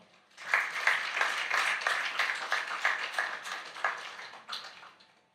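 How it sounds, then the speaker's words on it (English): A small audience at an event launch applauds the founders, a sparse patter of separate hand claps that starts quickly, holds steady and then fades out. "A round of applause for them."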